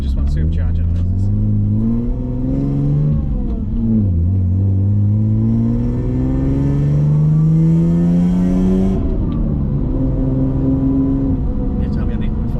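A supercharged car engine revs on a test drive. Its loud, close whine climbs and falls in pitch over several long revs, with a deep rumble underneath.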